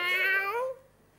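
A cat gives a single short, clear meow that slides downward and fades out within about a second, heard alone and close.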